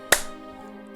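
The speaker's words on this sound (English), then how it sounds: "Okay, we're gonna clap." A single sharp hand clap rings out once, close and crisp, followed by a short fading reverberation.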